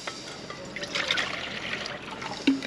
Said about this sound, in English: we'll put a cup of water in the old kettle.